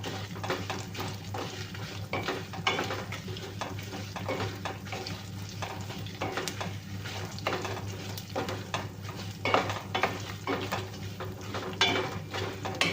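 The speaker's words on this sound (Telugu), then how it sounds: "బాగా ఫ్రై చేసుకోండి. అలాగే ఇప్పుడు ఇందులో కొంచెం ఉప్పు కూడా యాడ్ చేద్దామండి" Neem flowers and drumstick leaves fry in a pan with a soft crackle, while frequent scraping and clinking stir strokes come through quietly and close, with no talk.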